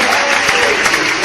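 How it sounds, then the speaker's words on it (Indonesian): A studio audience claps together at a talk show, a dense, steady burst of applause that fills the whole short moment, close and loud with no voices over it. "marilah kita sambut dan kita berikan tepuk tangan yang meriah pastinya"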